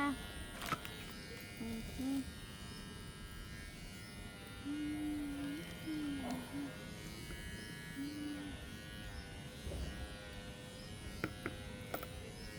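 An electric trimmer buzzes steadily as it cuts a cat's fur at home, a low, faint hum that runs through the whole stretch with brief pauses. Soft background noises come and go.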